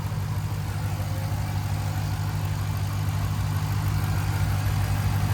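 The 6.2-liter supercharged V8 of a 2021 Dodge Durango SRT Hellcat idles close by, a steady, loud, deep rumble that holds evenly throughout with no voices.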